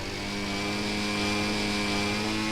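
Engine of a model triplane at half throttle in the RealFlight 6.5 simulator, a steady droning hum with a strong constant pitch, running alone without any change in level.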